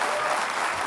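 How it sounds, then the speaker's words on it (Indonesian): Studio audience applauding Pak Anies at a televised Jakarta election debate, a dense, steady clatter of clapping throughout. "Kita beri aplaus untuk Pak Anies."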